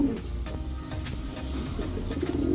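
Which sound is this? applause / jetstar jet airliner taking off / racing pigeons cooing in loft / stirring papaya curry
racing pigeons cooing in loft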